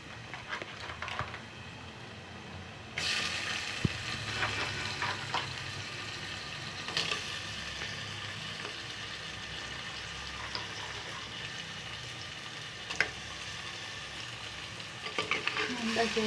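Crab pieces fry and sizzle steadily in a pan of sautéed curry base, with occasional scrapes and knocks of a spoon stirring them. The sound is close and continuous, with no talking.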